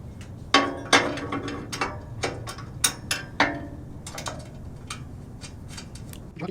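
A 7/16 wrench tightens bolts and locking nuts on a roof rack for a 100 Series Land Cruiser, with close, loud ratcheting clicks and metallic taps coming in uneven bursts, with no talking.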